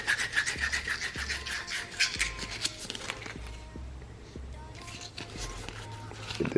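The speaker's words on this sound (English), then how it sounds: "sand that" Hand sanding a soldered metal piece during a Supra 2JZ engine project, repeated scratchy rubbing strokes in uneven bursts, close and moderately loud, with a few soft knocks and a person murmuring now and then.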